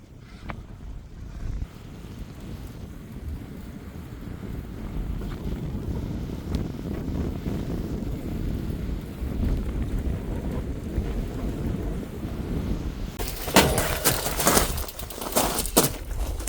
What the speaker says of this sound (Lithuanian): vėjas didelis, turbūt manęs negirdit